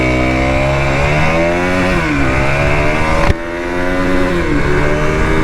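An enduro motorcycle fitted with a sports bike engine accelerating hard, loud close engine roar climbing through the revs with a brief shift dip midway, alone.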